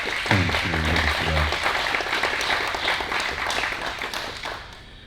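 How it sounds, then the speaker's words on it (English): An audience at a club meeting breaks into a warm round of applause that fills the room, following a brief spoken voice at the start, then slowly tapers. "I think it'd be appropriate if we give him a round of applause"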